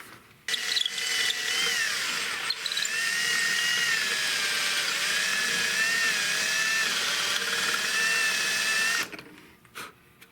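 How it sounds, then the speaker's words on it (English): A power drill whines steadily for several seconds while boring into a Tikka T3 rifle stock, its pitch wavering slightly, then cuts off abruptly. "I can shift it over by drilling towards myself."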